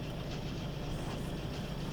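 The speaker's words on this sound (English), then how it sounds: "Copper trains blocking the stone train." Trains rolling through a Factorio factory, a steady rumbling clatter of rail cars with a low mechanical drone, continuous and fairly close.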